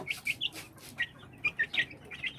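Several Gilmore Hatch cross White Hatch chicks, a batch of nine, give high, thin peeps in short bursts, near and fairly quiet, with soft rustling underneath.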